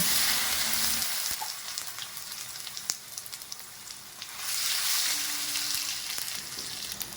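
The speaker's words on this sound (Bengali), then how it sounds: "কালো জিরে গোটা জিরে আর তেজপাতা দিয়ে ফোড়ন দেব" Nigella seeds, cumin seeds and bay leaves are tempered in hot oil for a spicy mustard-oil parshe fish curry, giving a steady close crackling sizzle with scattered sharp pops throughout.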